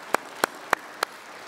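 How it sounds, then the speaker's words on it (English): Four crisp hand claps, evenly spaced and close, ring out during a priest's sermon, each a sharp isolated smack with quiet between them. "Give yourself some applause."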